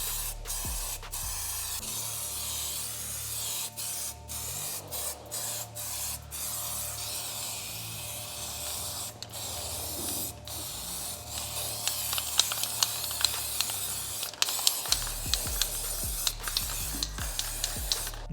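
Spray primer hissing from an aerosol can onto the body of a VW Passat R36 during restoration, a close, continuous spray in long bursts with brief pauses and occasional clicks of the nozzle.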